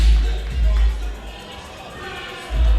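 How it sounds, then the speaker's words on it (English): Wrestling crowd giving Alec Price a standing ovation, loud cheering and shouting that swells at the start, dips in the middle, then surges again, with heavy low rumble from the venue. "And the crowd giving Alec Price a standing ovation."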